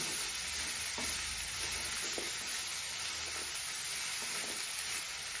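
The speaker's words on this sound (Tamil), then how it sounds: "அதுவும் ஒரு நிமிஷம் வதங்கட்டும் இப்போ உருளைக்கிழங்கு சேர்த்துக்கலாம்" Mixed vegetables with potato saute in a pan for aviyal, giving a steady, soft sizzling hiss with faint stirring scrapes and no talk.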